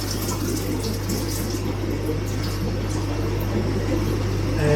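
Water drains from a bottle through a siphon hose into a container, a continuous close trickling and bubbling flow over a low steady hum that swells slightly toward the end, with no voices.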